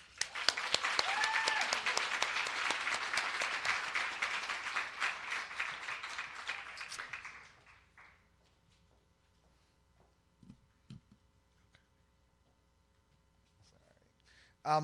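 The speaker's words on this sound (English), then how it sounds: "let's give them a big round of applause" A round of applause for the Pursuit Fellows at a Demo Day gathering, dense clapping for about seven seconds before it fades into near silence with a few faint knocks.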